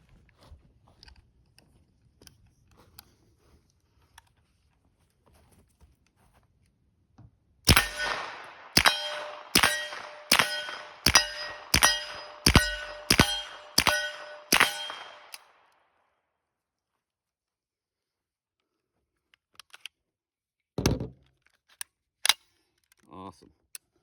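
An Uzi fires damaged ammunition in a rapid string of about nine sharp, ringing metallic shots over several seconds, loud and close, followed by a few scattered clanks and pops after quiet.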